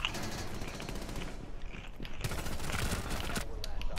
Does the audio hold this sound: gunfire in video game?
yes